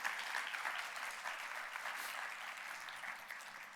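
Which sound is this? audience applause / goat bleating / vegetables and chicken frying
audience applause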